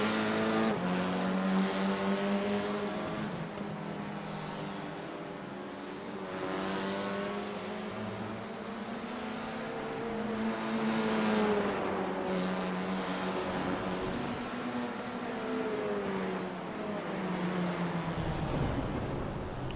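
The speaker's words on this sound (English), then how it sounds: "So we see some of the cars stopping on track, perhaps heading back to the pits to get some fuel on board." F4 race cars lapping Oran Park Raceway in iRacing, several engines droning and shifting pitch as they pass, a steady layered whine with rising and falling harmonics throughout, fairly loud with no talk.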